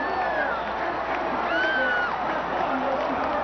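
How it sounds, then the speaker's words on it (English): A racetrack crowd at the 2003 Belmont Stakes roars and cheers for a horse in a steady, dense wash of distant voices and whoops, with some shouting rising above the general hubbub. "Applaud this horse."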